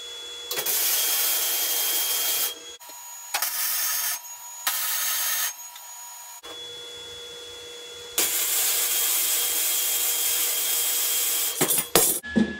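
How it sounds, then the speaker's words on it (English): A steel rear bumper piece for a Jeep JK is tack welded, with bursts of loud, harsh hissing crackle cut into separate welds of uneven length by short pauses. "okay, let's tack this guy up."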